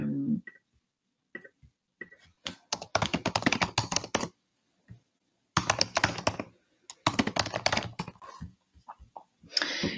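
Someone types on a computer keyboard in quick bursts of clattering keystrokes separated by pauses, close and clear with no talking.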